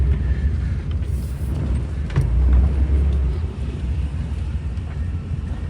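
A 1975 Chevrolet Monza with a 350 V8 engine being driven, giving a steady, low, subdued engine rumble with wind noise, swelling briefly midway before settling back.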